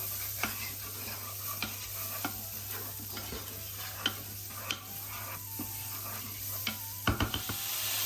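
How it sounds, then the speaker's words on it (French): Ginger, garlic and spring onion sautéing quickly in a pan of leftover oil, a steady sizzle under repeated scraping and knocking strokes of a utensil against the pan, close by with no talk. "Et je vais y faire revenir le gingembre, l'ail et l'oignon frais."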